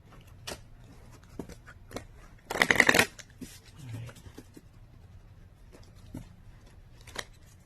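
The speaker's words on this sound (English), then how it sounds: "I need to shuffle one more time." A deck of tarot cards being shuffled during a reading: one brisk riffling burst of about half a second, close and crisp, surrounded by quiet soft card handling and rustling taps.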